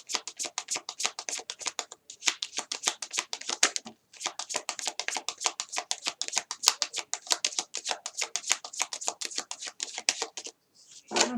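Tarot cards riffle and slap in a long run of fast, crisp shuffling clicks, with a couple of short pauses and a card being drawn near the end.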